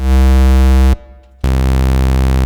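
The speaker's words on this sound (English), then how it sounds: "This is the square" A loud, buzzy synthesizer square-wave tone drones steadily, stops for a brief gap, then resumes just as bright and harsh.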